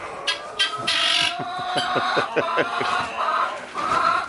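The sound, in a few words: guinea fowl calling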